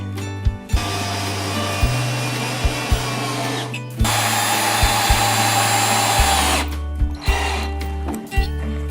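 A power screwdriver drives screws through salvaged pallet slats for a bench. The motor whirs loudly and steadily in several long runs, broken by short pauses and clicks, close by with no voices.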